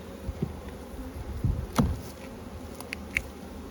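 Honeybees buzzing at an outdoor apiary hive: a soft, steady hum with a few brief, sharper sounds close by.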